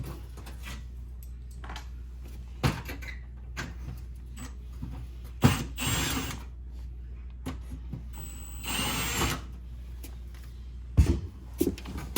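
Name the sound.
power drill removing Phillips screws from Whirlpool oven trim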